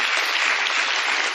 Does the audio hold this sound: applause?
yes